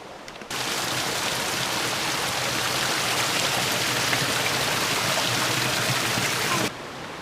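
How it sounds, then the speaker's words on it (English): Creek water rushes and splashes in a steady, broad hiss, close and continuous while someone crosses the creek on a rocky trail, with no talking. "So we're gonna cross the creek here."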